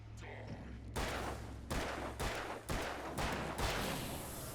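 Gunfire in the video game Alan Wake Remastered: a quick string of about six loud, booming shots at irregular intervals, each with a short reverberant tail, set against a low ambient hum.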